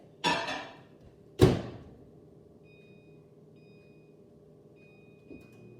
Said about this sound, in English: Then you put it in the microwave.